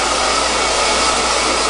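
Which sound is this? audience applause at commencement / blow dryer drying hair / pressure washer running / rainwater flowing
blow dryer drying hair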